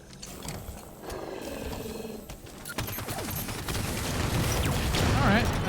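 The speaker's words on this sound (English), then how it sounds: "that was some pretty good explosions" Explosions in the Halo 5: Guardians video game: dense, rumbling blasts and crackling bursts that build steadily louder across the span, with no speech.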